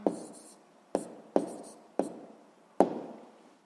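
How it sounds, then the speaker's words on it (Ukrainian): Pen strokes writing an answer on paper, about five short close scratches, each fading quickly, spaced under a second apart in a quiet room. "записуємо тоді відповідь"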